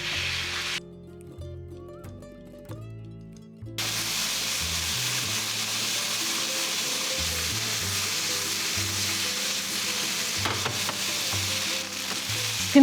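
Chicken pieces fry in a pan for a creamy pasta dish, a loud, close, continuous sizzle that briefly quiets then surges back stronger. Background music plays underneath.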